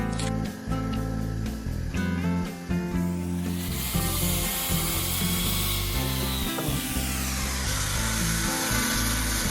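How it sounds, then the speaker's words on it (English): A drill bores a 9mm hole into a wooden block, a loud continuous whirring grind that rises into a harsher, brighter cutting roar partway through and holds steady to the end, with no voices. "Then I drill a 9mm hole on the lead screw supports block and the movable block back door."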